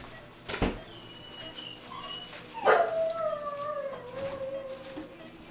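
A dog sings out after surgery with a long, rising and falling howl that slides downward and trails into whimpering yips, close and clear, preceded by a short bark-like burst.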